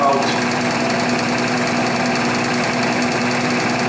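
A distributor spinning on a test stand at 620 RPM: a loud, steady mechanical whir and hum with a constant pitch, close and continuous, with some talk mixed in.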